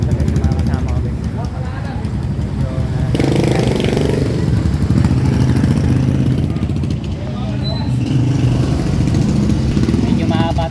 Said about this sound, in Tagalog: Medyo mahaba traffic guys.